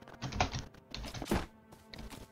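Fingers type on an RGB rainbow computer keyboard, close and fairly soft, with quick bursts of key clicks separated by short pauses.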